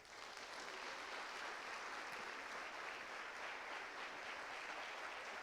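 Worshippers at a church revival conference applaud together, producing a continuous, even roar of many hands clapping from a distance at low level, steady from start to finish with no speech.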